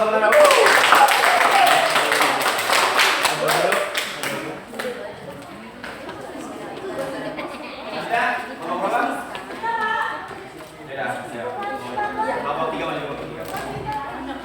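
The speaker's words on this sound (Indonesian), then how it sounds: "Tepuk tangan." Classroom applause from students during a peer-teaching sociology lesson in Indonesia: a loud burst of many clapping hands in the opening seconds, fading into chatter and talk from the room.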